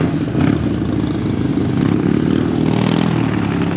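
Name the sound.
motorcycles passing by on the road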